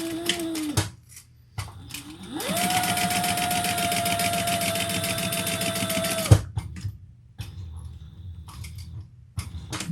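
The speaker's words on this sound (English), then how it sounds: "But we're going to sew down the sides." Sewing machine stitching the sides of a bucket bag, running in a steady fast whirring stretch of about four seconds after brief start-up bursts, then stopping, with quiet handling noises around it.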